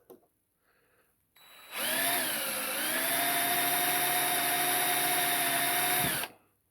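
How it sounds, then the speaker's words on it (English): A battery drill with a small bit whirs up to speed and runs steadily for about four seconds, loud and close, drilling out a hole in a Corgi 007 Lotus die-cast model, then cuts off abruptly. "I'm just going to drill that out gently, clear the flutes away."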